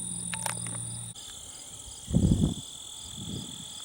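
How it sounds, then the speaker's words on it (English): Steady high-pitched insect buzzing drones continuously through the clip, like cicadas, with a few low rumbling thumps partway through. "I think I'm hearing cicadas."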